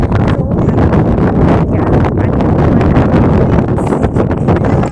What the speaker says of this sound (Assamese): কি ধুনীয়া বতাহ